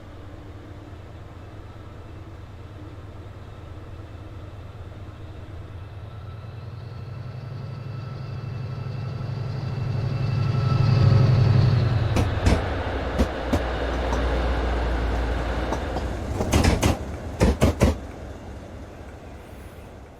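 Class 68 locomotive 68136 hauling a freight train in a train simulator game, with a low diesel rumble that swells as it passes, then rail clatter and sharp metallic clanks toward the end.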